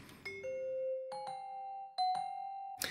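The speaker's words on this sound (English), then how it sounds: "we layered this with an additional sound to get a more full sound with the Indonesian gamelan, which is a kind of bell sound" Indonesian gamelan bell tones layered into a spooky Halloween music track, played alone: a series of clear, ringing metallic strikes that sustain and overlap, ending in a brighter burst.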